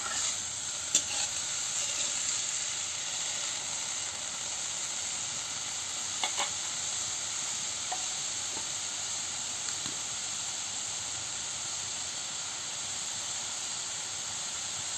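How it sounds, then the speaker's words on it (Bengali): Banana stem curry is stirred and fried in a pan, giving a steady hiss and sizzle with occasional faint scrapes of stirring and no talk. "নুন দিয়ে দাবিয়ে রেখেছিলাম দিয়ে দিয়েছি এবারে দিয়ে ভালো করে নাড়াচ্ছি"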